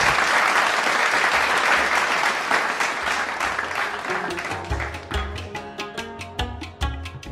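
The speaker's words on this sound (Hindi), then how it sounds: "सबसे पहले एक बार जोर से ताली अपने लिए बजा दीजिए" Audience at a Jammu and Kashmir Panchayati Raj rural development gathering breaks into loud, dense clapping that thins into scattered individual claps toward the end.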